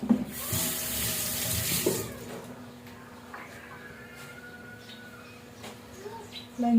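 A kitchen tap gushes hard for about two seconds while hands are rinsed during cooking, then cuts off, leaving a quiet room with faint clinks and a person talking.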